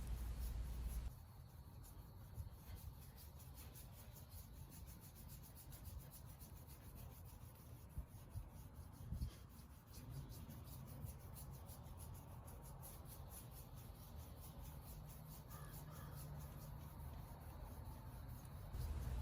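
Shine Armor Scratch Repair being rubbed straight back and forth on scratched car paint under medium pressure, a steady, continuous close-up swishing friction that holds evenly for the whole stretch.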